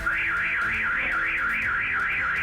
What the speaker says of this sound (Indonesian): alarm mobil berbunyi